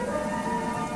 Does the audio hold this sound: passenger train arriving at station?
no